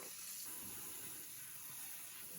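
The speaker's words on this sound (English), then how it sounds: "I rinse the rice well, let it drain" Brown glutinous sweet rice is rinsed for homebrewed Chinese rice wine under a steady, close rush of running water from a tap, continuous and alone for a couple of seconds.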